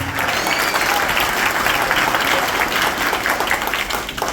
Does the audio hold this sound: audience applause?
yes